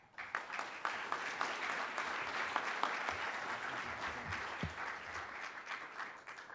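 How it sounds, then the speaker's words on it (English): An audience at a keynote presentation applauds in a steady, dense wash of clapping that holds at an even level from start to finish, moderately distant and without cheering. "let's give him another round of applause"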